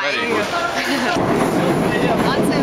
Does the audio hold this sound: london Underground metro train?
yes